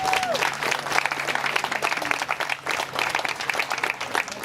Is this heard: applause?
yes